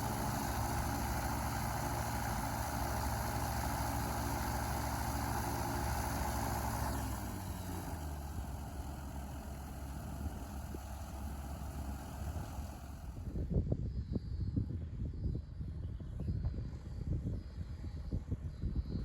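Engine of a Flight Design CTsw light aircraft running at a steady drone that drops in pitch partway through. Later it turns rougher and more uneven, with no talking.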